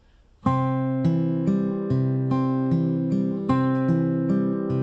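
Plucked guitar notes in a repeating fingerpicked pattern, a low bass note under higher strings, with a measure missing half a beat so the rhythm feels cut short.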